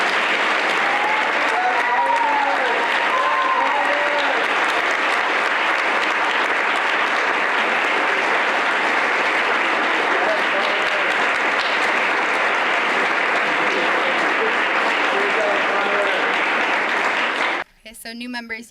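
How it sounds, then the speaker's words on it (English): An audience at a National Honor Society induction ceremony claps for new members, sustained warm applause with a few cheers and whoops, ending abruptly. "Please give a round of applause to the new members of the Sutton."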